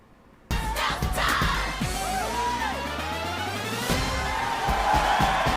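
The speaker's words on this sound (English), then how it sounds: "That crowd is way too hyped for the basketball team to come out onto the floor." A hyped movie crowd cheering for a basketball team coming onto the floor, bursting in suddenly with dense yells, whoops and roaring voices that stay loud and busy to the end.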